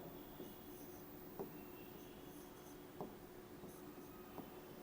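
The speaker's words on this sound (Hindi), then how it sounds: "ऐसे हम लिख देते हैं मोहम्मद" Chalk or a marker scratches steadily across a board during a history lecture, with faint taps at stroke starts, quiet under a hissy room background.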